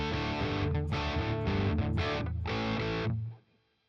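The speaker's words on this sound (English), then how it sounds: "Tape echo." Electric guitar played through an amp-modelled setup with a tape echo delay: a series of loud, distorted chords strummed in a short rhythmic pattern, then let ring and fading out at the end, with no talking.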